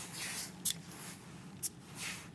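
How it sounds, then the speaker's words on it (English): Two short sharp bursts from a perfume atomizer, close by and a second apart, with soft rustling hiss of the mist between them. "Let's just spray it on and get on with the day."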